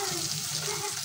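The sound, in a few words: shrimp frying in oil with onion and chili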